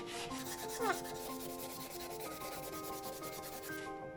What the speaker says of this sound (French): on va commencer à aller avec l'éponge et on va gratter, comme ça.